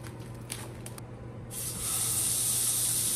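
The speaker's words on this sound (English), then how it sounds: "Y'all hear that sizzle?" Burger meat sizzles on a hot grill: a soft steady hiss that swells suddenly and keeps crackling evenly, close by with no voices.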